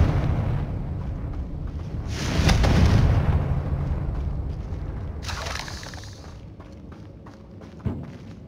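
A Confringo fire-spell blast in Hogwarts Legacy, a deep rumbling boom that swells and fades, followed by a second hissing burst and a sharp thump near the end.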